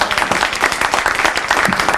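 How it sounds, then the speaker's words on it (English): Audience at an evening legislative listening session applauding elected officials, dense sustained clapping close and loud throughout two seconds, no talk over it. "Can we give the round of applause to elected officials who came out here tonight?"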